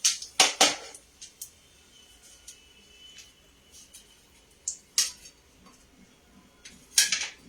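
Clinks of utensils against plates as besan paneer chilla is served, a few sharp close taps scattered over a quiet kitchen background.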